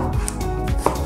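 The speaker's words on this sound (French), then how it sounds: "Niveau légumes, il vous faudra tailler un demi-oignon." A kitchen knife chops half an onion on a board, giving several quick, crisp cuts in close succession, near and clear, with no talking.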